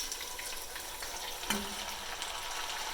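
Leeks going into a soup pot with garlic already cooking, giving a steady low sizzle and frying crackle throughout, with one brief clatter midway as the leeks drop in; no talk.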